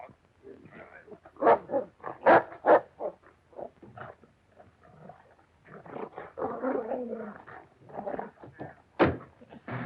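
A dog barks in irregular bursts, some sharp and loud, others rougher and growling, with short pauses between.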